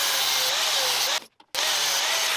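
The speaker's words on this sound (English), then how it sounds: "Next, I just have to grind a flat spot on both sides of this shaft." A steady high-pitched grinder whine cutting into a steel shaft to grind a flat spot, loud and continuous, briefly stopping before resuming with the same harsh tone.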